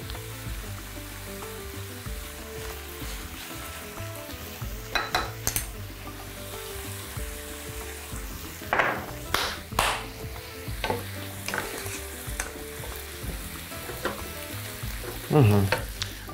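Mushrooms fry in a pan with a constant crackling sizzle, punctuated by several scraping stirs and clinks of a utensil against the pan.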